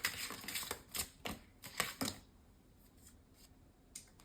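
A quick series of crisp flicks and taps as cards are shuffled, then a brief pause and a single soft snap near the end.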